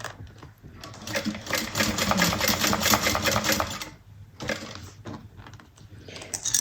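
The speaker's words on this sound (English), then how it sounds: "I tell my bobbin sounding a little loose there, so which is a sign that I'm running out of thread" A sewing machine with a loose bobbin running low on thread stitches in a rapid mechanical patter, one long run then a pause and a shorter burst, close and alone.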